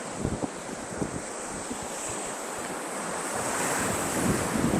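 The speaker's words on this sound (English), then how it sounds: "It's the fucking storm surge." Ocean waves roll and break steadily onto a beach in Barbados during a storm surge, with a continuous loud rush of surf and gusting wind buffeting the microphone.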